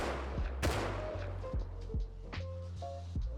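Semi-automatic SAR rifle tap-fired in the Rust video game, a string of sharp, loud single shots spaced unevenly over a low rumbling background, with a few quieter clicks between.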